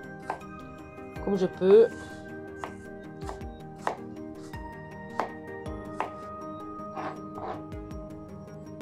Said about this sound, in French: Et je vais essayer de découper ça en tout petits morceaux